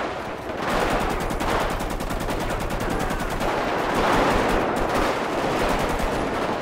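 Gunfire in the video game GTA V during a gang shootout in a favela, with dense, rapid automatic bursts running continuously for several seconds, loud and close.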